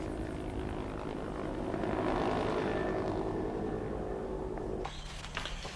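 A Royal Brunei Malay Regiment military helicopter flying, a steady whirring rotor and engine drone that swells slightly and then fades into distant rumble, heard alone without voices.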